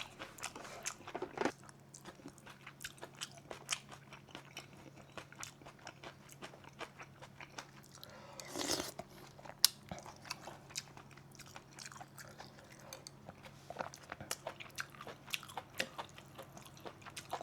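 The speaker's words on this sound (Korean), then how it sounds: "한번 먹어보겠습니다." Eating a bowl of leftover seaweed soup (miyeok-guk) at home, with soft close chewing, smacking and occasional slurps and crunches in an otherwise quiet room, no talking.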